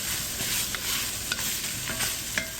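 Raw tomato cooks down in a hot pan under a soft, continuous sizzle, with a spoon stirring and scraping in a few light strokes close by.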